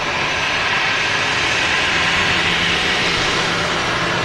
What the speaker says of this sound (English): A very warm welcome to the brand new Virgin Atlantic A350. Taking off on a flight to Orlando.